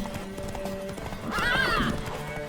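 Horse hooves clip-clop steadily through a scene in The Witcher 3 video game, with a mare's whinny rising loudly midway over the trotting.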